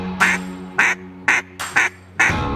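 A duck call is blown to imitate ducks, giving five loud, close, nasal quacks in a fairly regular rhythm with short gaps between them.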